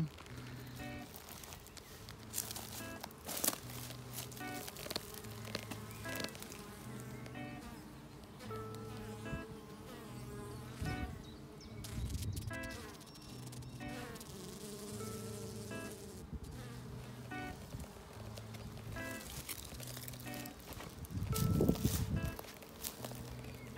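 Honeybees buzz steadily around an open beehive during an outdoor hive inspection, a continuous close insect drone with a few soft thumps and handling noises, no speech.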